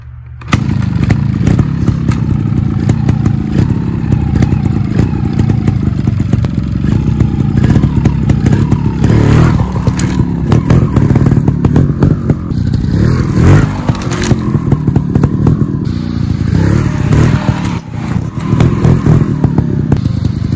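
A trials motorcycle rolls up to and clambers over a log obstacle, its engine blipping and revving loudly and close, with clattering, thumps and scraping of tyres and chassis against wood throughout.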